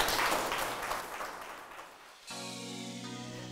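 Congregation applause at a Spanish-language church sermon, a dense clapping that fades out over a couple of seconds before music takes over.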